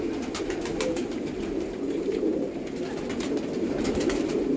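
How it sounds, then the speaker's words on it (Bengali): A flock of pigeons feeding together at evening mealtime, with soft overlapping coos and rustling going on steadily and close throughout, no voices. "দেখুন পায়রারা কীভাবে ঝাঁক বেঁধে খাচ্ছে"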